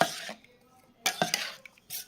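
A spoon stirs salt into a Maharashtrian dahi kadhi mixture in a pot, giving a few short scraping and clinking bursts separated by quiet gaps, close and fairly soft.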